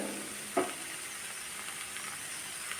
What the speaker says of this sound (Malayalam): പൊടികളുടെ പച്ചമണം മാറുന്നത് വരെ നന്നായിട്ട് വഴറ്റിയെടുക്കാം